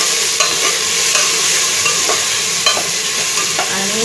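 Tomatoes tipped onto fried onion and stirred in a hot pan for a Maharashtrian sandgyachi bhaji, giving a loud close sizzle with a spatula scraping and clicking against the pan at an uneven rhythm, with nobody talking.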